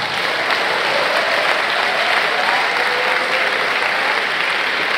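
At a stand-up comedy show, an audience breaks into loud, continuous applause, a thick, steady roar of clapping that holds at full strength for several seconds.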